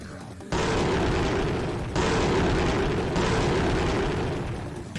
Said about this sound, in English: Vecni lit and threw 3 of her dynamite sticks at the thickest mass of ghouls.